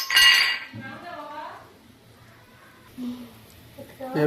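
Fish being stirred in a pan with a utensil, a sharp metallic clink at the start followed by softer scraping and clatter, with a voice speaking briefly in between.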